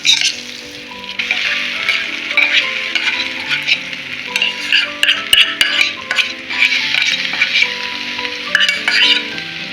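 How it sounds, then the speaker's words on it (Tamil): Boiled chana dal and dried red chilli sauté loudly in a pan, a dense continuous sizzle with frequent stirring clinks and scrapes throughout, close and without speech. "இதை எல்லாத்தையும் வதக்கிட்டு நம்ம அவிச்சு வச்சுருக்கிற கடலப்பருப்பை இதில் சேர்த்துடலாம்"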